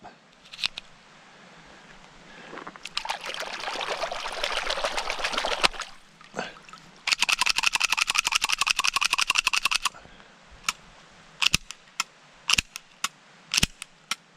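Water is washed through a mud-fouled Mossberg MC1 SC pistol, with splashing, trickling bursts followed by rapid clicking and sharp intermittent clacks of the handgun's action, close and fairly quiet.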